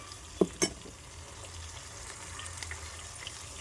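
Onions frying in a pan make a close, continuous sizzle, with a couple of sharp stirring clinks near the start.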